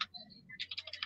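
A computer keyboard is typed on with a quick run of crisp, close clicking keystrokes following a brief pause, loud and alone with no talk over it.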